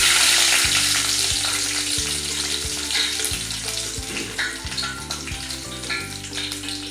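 Garlic and mustard seeds fry in hot oil with a loud, close sizzle that fades slightly, punctuated by regular knocks and scrapes of a spoon stirring against the pan.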